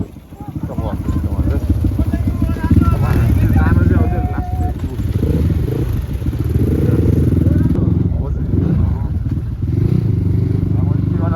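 Motorcycle engines rumble steadily on a road near Sikles while a person talks over the noise throughout, the engine drone holding loud and close.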